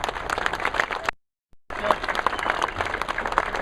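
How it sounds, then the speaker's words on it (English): Crowd applause at a rally for fishermen in Washington, dense steady clapping that cuts out abruptly for about half a second and then resumes just as full. "let's have a round of applause for Brian"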